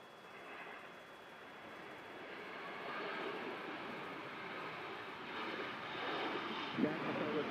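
An SAS Airbus A350-900 moves at Washington Dulles airport with a steady, distant jet engine roar that slowly swells without a break.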